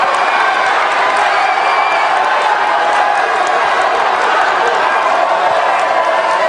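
Crowd of political supporters at an Indonesian campaign event applauding and cheering, a loud continuous wash of clapping and shouting with no pauses.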